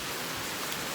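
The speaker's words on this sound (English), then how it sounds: "MiJulsz, it's raining cats and dogs outside." Rain pours down in a dense, steady hiss, an even wash of noise with no gaps, heard briefly and close.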